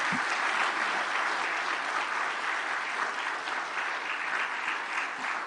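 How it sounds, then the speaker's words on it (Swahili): An audience applauds steadily at a formal Tanzanian ceremony where a judge hands an inquiry report to the President, the clapping a dense, even wash at moderate volume from start to end. "Makofi mengi."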